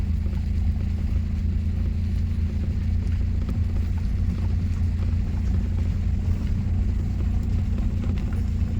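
A car engine drones at a low, steady pitch throughout, close and constant, as a learner driver presses the accelerator in second gear during a driving lesson.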